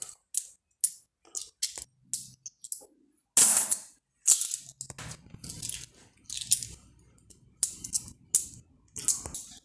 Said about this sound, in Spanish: aquí están todas las monedas que estaban en la botella de 3 litros